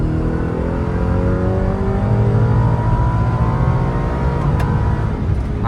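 A Ford Raptor R truck running on E85 accelerates hard, its engine roaring loudly and steadily close by while the 10-speed automatic shifts up, the rising engine tone dropping back at each change.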